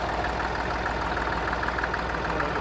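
A 1964 Fulton Super Dexter tractor engine idles steadily at a ploughing match, a loud, close, low rumbling chug with a constant rhythmic knock and no talk over it.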